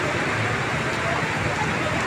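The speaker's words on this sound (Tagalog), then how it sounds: "Parang umuusok ang ulan." Heavy rain pouring steadily in a street market area during a storm, a continuous dense hiss with no pauses, loud and close.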